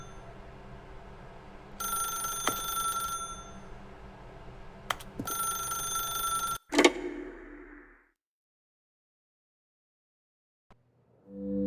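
In the video game The Stanley Parable Ultra Deluxe, a telephone rings in two bright, close bursts separated by a short pause, followed by a thump and then near silence.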